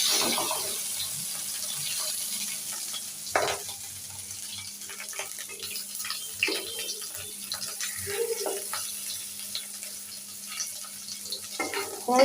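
Fish and fish roe fry in a pan with a soft, uneven sizzle, joined by scattered clinks and scraping as the food is turned and stirred.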